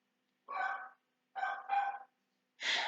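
Dogs barking indoors at moderate distance: four short, sharp barks in uneven bursts, the middle two close together, separated by silence.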